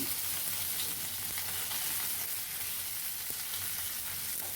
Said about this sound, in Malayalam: ഇനി ഇതിലേക്ക് കറിവേപ്പില ഇട്ട് കൊടുക്കാം. അത് ഒന്ന് മിക്സ് ചെയ്തെടുക്കാം.